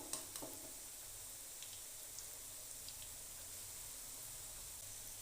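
Koftas made from green chickpeas fry in ghee with a quiet, steady sizzle and crackle, broken by occasional soft pops and a few light spoon or utensil clicks, with no one speaking.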